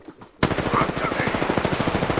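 Rapid automatic gunfire in the video game Apex Legends, a sustained burst of evenly spaced, punchy shots starting abruptly after a brief quiet and continuing loudly to the end.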